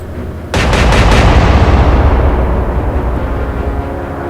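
Naval guns fire high explosive shells in an Atlantic Fleet battle game, a sudden loud booming salvo with several rapid cracks at the start, then a long rumbling decay.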